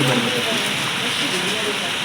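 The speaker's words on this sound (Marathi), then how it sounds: "किती पाऊस यार." Steady rain patters and hisses outdoors as a dense, even wash of sound, with faint voices underneath.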